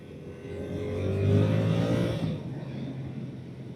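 A Yamaha R7 motorcycle, a restricted learner version, cruises at speed in a high gear with a steady engine drone and wind, swelling a little louder midway before easing back.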